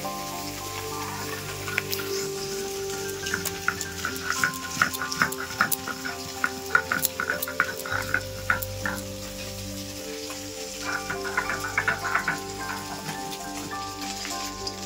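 Small puti fish fry in hot oil, a continuous crackling sizzle with bursts of popping spatter, steady and close throughout with no talking.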